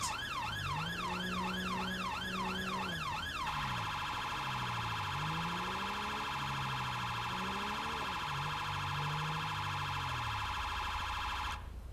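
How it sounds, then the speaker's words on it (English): An emergency vehicle siren on a blue light run, first a fast warbling yelp and then a steady high wail, loud and continuous over the low drone of the vehicle's engine. "We're going to turn the sirens off as we arrive."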